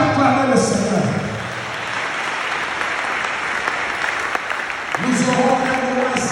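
A church congregation breaks into dense, sustained applause and acclaim, loud and steady across the whole stretch, with voices rising over the clapping near the start and end.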